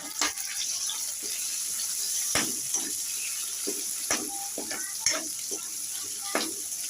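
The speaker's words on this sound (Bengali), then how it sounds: "এর মধ্যে দিয়ে দেবো ক্যাপসিকাম আর পেঁয়াজ কিউব করে রাখা, এগুলো দিয়ে দেবো। দিয়ে এবার এগুলো সটে করবো।" Cubed capsicum and onion sauté with soya chunks in a hot pan, giving a steady bright sizzle broken by sharp scraping stir clicks and occasional louder spattering bursts.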